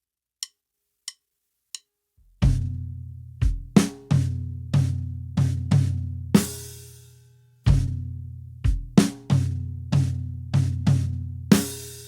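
A drum kit plays a broken-up groove with the snare on beat 3, starting with a few sharp clicks of count-in sticks before loud, ringing kick and snare hits and crashing cymbals in an uneven, syncopated pattern, with no talking.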